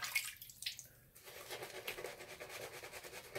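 Water pours in a steady broadband rush, close and fairly quiet, after a brief lull near the start; no voices.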